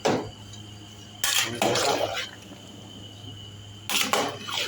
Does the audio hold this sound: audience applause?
no